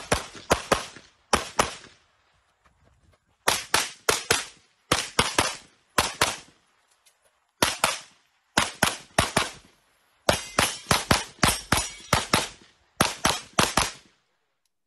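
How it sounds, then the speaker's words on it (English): Rapid bursts of pistol gunshots from a competitive shooter running a stage, loud sharp reports in quick clusters separated by short pauses while moving between positions, no talking. "we're going to watch a video of Chris shooting a stage"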